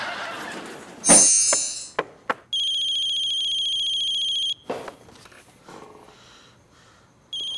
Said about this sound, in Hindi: अब ये क्यों फोन कर रहा है यार